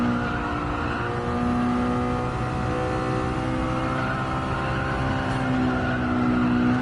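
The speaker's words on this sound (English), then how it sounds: "hopefully you can hear the tyre squeal, because that long right-hander is a nightmare for tyre squeal" A race car in a DTCC round carries speed through a long right-hand corner, its tyres squealing in a sustained whine over the steady roar of the engine, loud and continuous without talk.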